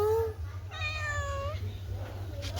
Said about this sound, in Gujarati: બિલ્લી બોલો મ્યાઉ મ્યાઉ